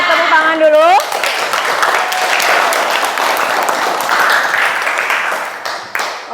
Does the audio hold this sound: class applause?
yes